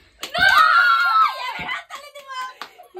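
Children and family members scream loudly and shrilly together for about a second at a home mehndi challenge game, trailing into excited chatter and giggles.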